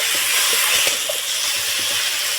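Ginger-garlic paste frying in a pan with onion and tomato for a taro and fish curry gives a loud, steady close hiss and sizzle with a few faint clinks, no voices.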